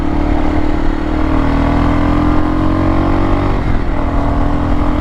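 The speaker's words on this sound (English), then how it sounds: "It's definitely extremely loud compared to the stock exhaust, especially when you get on it." Kawasaki KLR 650 motorcycle fitted with a Yoshimura RS4 slip-on exhaust, revving loudly up and holding a steady, rising engine drone for several seconds before a brief dip near the end; no talking.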